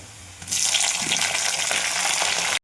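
Chopped tomatoes go into onions already fried red in a pan, and a quiet sizzle suddenly jumps to a loud, hissing wet spatter that keeps up close by until it cuts off abruptly.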